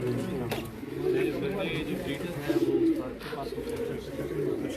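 Several pigeons on a Khairpur rooftop give repeated low, rolling coos, fairly close, while someone speaks over the birds.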